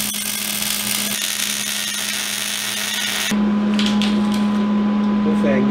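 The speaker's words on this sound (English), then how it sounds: "We can go ahead and weld them here at these three points." Steady crackling buzz from tack welding a steel cylinder head stand, up close and continuous. A low electrical hum runs beneath it, and the sound grows louder and harsher partway through.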